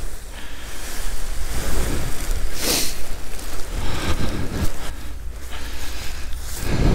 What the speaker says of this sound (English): Oh, it's getting really quite gusty now.